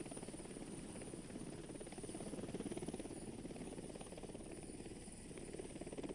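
A helicopter landing at an offshore helideck, with a steady, close rotor and engine drone and a thin high whine, continuous and even throughout.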